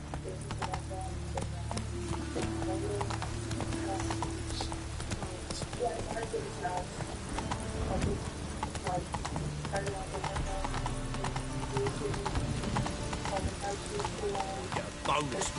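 A horse gallops in the video game The Witcher 3, with a steady, rhythmic stream of hoofbeats that continues throughout. The hoofbeats play under sustained game music and ambience, and someone talks over them.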